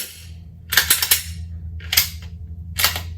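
Glock 48 MOS pistol slide slamming back and locking open on a Shield Arms S15 magazine: three sharp metallic clacks spaced about a second apart, close and loud over a low steady hum.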